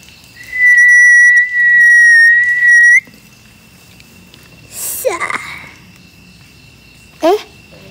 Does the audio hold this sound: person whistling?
yes